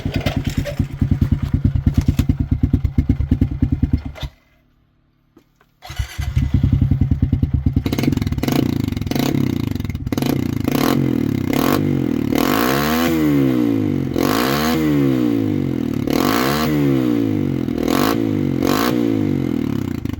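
A Kawasaki KLX 110 dirt bike with an aftermarket FMF exhaust idles with a deep, raspy rumble, cuts out briefly, then revs hard in repeated loud bursts nearby.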